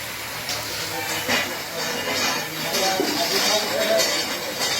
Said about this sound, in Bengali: একদম 1 নম্বর স্পেশাল মুড়ি ভাজা মেশিন।